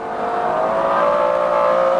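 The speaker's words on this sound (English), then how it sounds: "It just goes on accelerating and accelerating. And it's not just the 627 horsepower of the V12," A McLaren F1's 627-horsepower V12 pulls hard on the Goodwood racetrack, a loud, continuous engine howl that holds steady and close throughout with no pauses.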